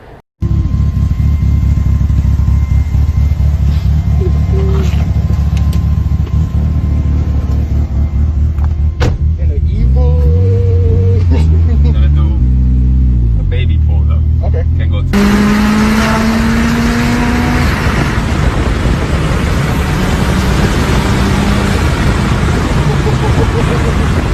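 A modified Mitsubishi Evo with over 650 horsepower accelerates hard through gears, engine droning loud and close with rising sweeps between shifts, recorded from inside the car with a change of recording partway through.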